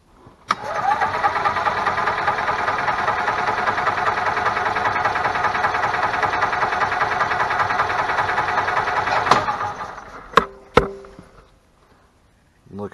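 An EZGO golf cart engine cranks steadily for about nine seconds during a compression test after a valve adjustment, then stops abruptly, followed by a few sharp clicks and near silence.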